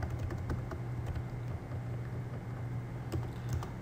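Computer keyboard typing, a steady patter of key clicks over a constant low hum, moderately close and with no voices.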